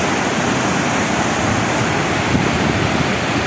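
Broad, steady roar of water pouring over Sugabandh waterfall, loud and close, an unbroken rushing wash with no voices.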